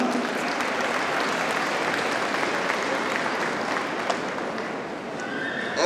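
An audience at an indoor dressage clinic in Lyon claps steadily for a horse. The applause is even and sustained with no pauses, and it rolls on without anyone speaking.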